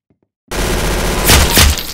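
Gunfire in the Roblox game Arsenal bursts in loudly after a brief silence, a harsh, sustained blast with two sharper cracks near the end.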